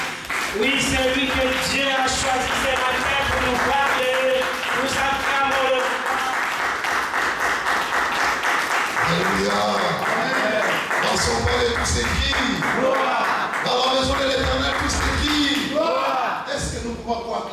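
A congregation applauds loudly and continuously at a Sunday church service to welcome the pastor, dense clapping blended with music and singing voices throughout.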